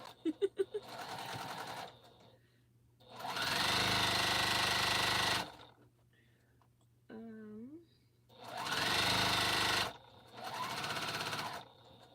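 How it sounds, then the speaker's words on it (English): A sewing machine stitches a quilt of an African map in three long, steady, loud runs, separated by quiet pauses filled with someone talking and small handling sounds. "I'm just gonna go over what I've already sewed."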